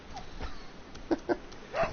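A dog in Resident Evil 4 gives a few faint, brief yelps and whimpers, three short cries spread over about two seconds above a low background murmur.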